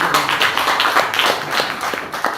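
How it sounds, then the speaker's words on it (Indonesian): Classroom applause for a student who has just answered, a brisk scatter of hand claps from a small group, close and lively, with no talk over it. "Tepuk tangan."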